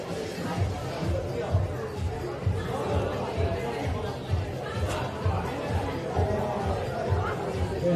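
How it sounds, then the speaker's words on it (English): Steady crowd chatter and babble fill a venue during the senior final of a school bouldering cup, a dense, continuous hubbub of many voices at an even level with no single voice standing out. "Still a pretty good crowd."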